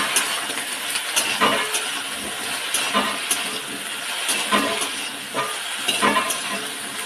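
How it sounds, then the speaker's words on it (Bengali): Dalia vegetable dish fries in a wok with a steady, loud sizzling hiss, broken every second or so by sharper crackling bursts as it is stirred. "বন্ধুরা দেখো আমি ডালিয়ার সবজিটা ভাজছি এখন।"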